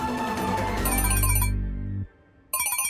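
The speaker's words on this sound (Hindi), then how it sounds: "सर का फोन है।" Mobile phone ringtone, a loud electronic melodic tone playing close by for about two seconds, a brief gap, then resuming.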